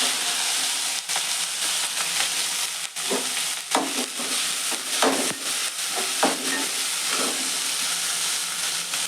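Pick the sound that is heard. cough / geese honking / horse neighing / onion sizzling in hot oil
onion sizzling in hot oil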